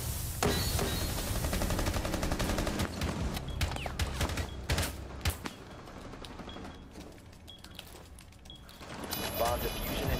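Gunfire crackles in a tactical shooter bomb-defusal match: dense bursts of rapid shots and impacts crowd the first half, then quieter thuds and clicks follow, with a player talking over the game audio.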